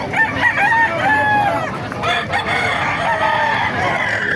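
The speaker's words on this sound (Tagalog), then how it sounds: "Ito mga hatch gray gandang hatch gray nito." Hatch gray gamefowl roosters crow at a busy Bocaue market, several long crows overlapping one another against steady crowd and market bustle.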